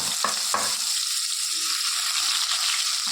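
Onion and garlic fry in oil with cumin, asafoetida and turmeric, a loud steady sizzle close by, opening with a couple of sharp stirring scrapes and then settling into an even hiss.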